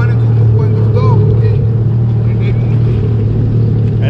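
A Yamaha EX WaveRunner personal watercraft engine drones steadily and loudly while riding on the water, a constant low hum with splashing and wind, and voices speaking over it.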